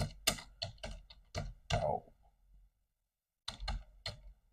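Quick clicky keystrokes on a computer keyboard as a command is typed to create an SSH authorized keys file, a dense burst of taps followed by a pause and then a few more key presses.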